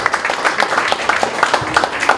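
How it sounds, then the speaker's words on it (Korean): An audience at a Korean CEO-course lecture claps together in a steady, dense patter of hand claps lasting about two seconds, moderately loud with no talking over it. "박수 한번 주세요"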